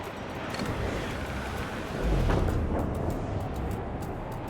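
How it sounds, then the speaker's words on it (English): Stormy sea in Assassin's Creed Black Flag, with constant roaring wind and rain-like rush, waves washing, and a low rumble swelling near the middle, dense and steady throughout. "Storm there, Captain! Looks bad!"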